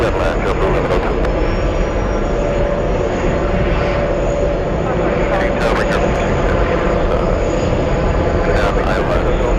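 A JetBlue jet airliner roars steadily at JFK airport during takeoff, a loud continuous engine rumble with broadband wind-like noise filling the whole stretch, faint voices and radio chatter underneath.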